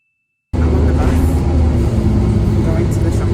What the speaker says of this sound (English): I'm on the bus.